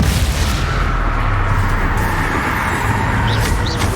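The Confringo fiery blast spell in Hogwarts Legacy combat: a loud, continuous roar of booming, crackling explosions and battle noise with no speech.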